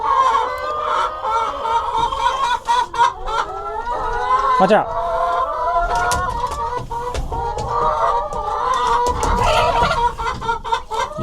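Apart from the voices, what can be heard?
hens clucking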